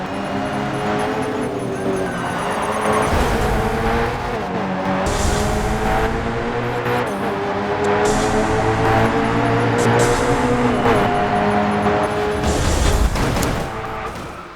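Race cars in the video game Grid 2 driving head to head, engines whining and shifting pitch continuously with tire squeal and skidding bursts, loud and constant throughout.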